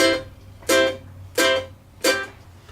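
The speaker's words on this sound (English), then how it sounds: "So it gets that staccato or short and detached sort of sound." Three short, choppy guitar strums, each cut off quickly by a muted hand, evenly spaced with a faint hum between them.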